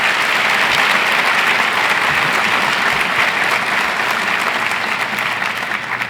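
An audience at a university State of the University address applauds steadily, a dense, loud wash of clapping throughout.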